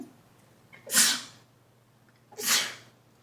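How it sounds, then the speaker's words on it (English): Two loud sneezes, each a sharp airy burst with a short inhale before it, about a second and a half apart. "What about the sneeze?"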